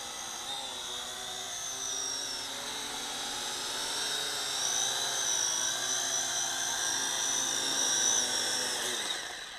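A Syma X8SW quadcopter drone carrying a Wi-Fi camera gives a steady high-pitched whine of spinning rotors as it comes in to land. The whine builds slightly toward the end and then eases off, with no talking.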